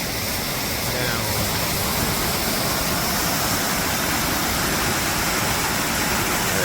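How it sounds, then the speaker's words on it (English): Tunnel Falls on Eagle Creek roars with a loud, constant rushing wash of falling water that holds evenly throughout. "From top to bottom here is Tunnel Falls."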